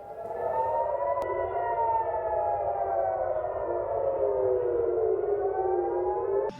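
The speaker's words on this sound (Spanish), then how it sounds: "Esta mañana las sirenas sonaron en Tel Aviv durante el más reciente procedimiento para interceptar misiles y drones procedentes de Irán" Air raid sirens wail across Tel Aviv during a missile and drone interception, a loud sustained tone that holds and slowly falls in pitch for several seconds and stands alone with no voices.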